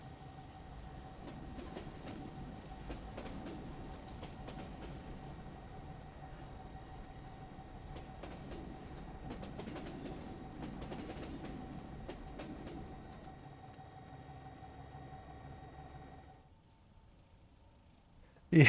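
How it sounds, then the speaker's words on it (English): A train in the war game Foxhole, rolling with a steady low rumble and light rhythmic clatter for most of the stretch before dropping away near the end. "he made a little train so that we can do oil runs. Choo choo."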